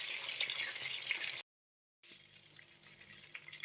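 Chebureks wrapped in cabbage leaves fry slowly in a pan over low heat, giving a soft, steady sizzle that cuts out briefly before resuming more quietly. The sound is faint and close.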